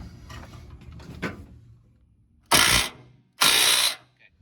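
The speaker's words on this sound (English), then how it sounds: "then you can put the impact on this" An impact wrench tightening a nut on a rear shock of a 2013 RAM 1500, two loud, close bursts of rattling whir after some quieter mechanical handling.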